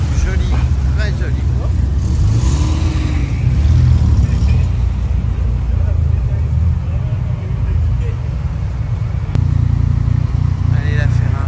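A Ferrari 348 sports car at an outdoor classic car gathering gives a loud, close engine rumble with a rising rev partway through. Someone talks over it almost continuously.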